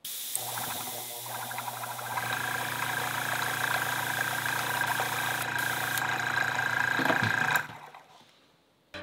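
An airbrush air compressor hums and rattles steadily up close, a mechanical drone with a faint knocking pulse, then cuts off on its automatic shutoff and winds down into near silence.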